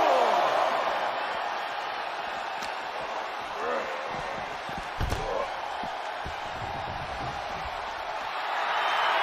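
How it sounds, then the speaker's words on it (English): A wrestling video game crowd roars in a match between Mike Tyson and Deadpool. The dense, steady roar swells at the start and end, with a few sharp thuds and slams breaking through near the middle. "The sound of this crowd is deafening"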